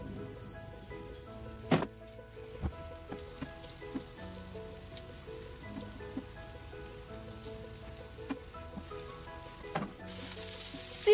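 King oyster mushrooms and a slice of ginger fry in rendered chicken fat in a hot wok, crackling with a steady close sizzle punctuated by sharp pops and a few clinks.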